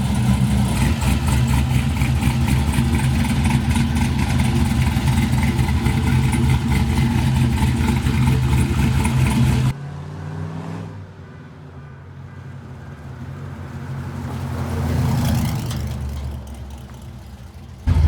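The LS-swapped engine of a 1971 Chevrolet C10 pickup truck runs loud and close with a steady, rough rumble, then drops to a quieter idle that swells slightly as if revved or pulling away.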